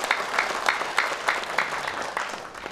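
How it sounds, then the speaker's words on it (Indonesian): Audience applause at a mayoral election debate in Ternate, a steady, moderately loud patter of many hands with a few sharper claps standing out, continuing throughout without talk. "kita boleh minta tepuk tangannya dulu"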